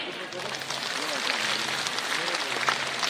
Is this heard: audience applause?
yes